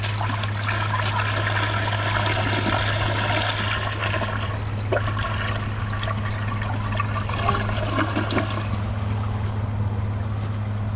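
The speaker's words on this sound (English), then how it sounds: "Here's a flush with the handle held down." A 1986 Kohler Wellworth 3.5-gallon tall-tank toilet flushes with its handle held down, a long, steady rush of water with a constant low hum beneath, nearby and uninterrupted by speech.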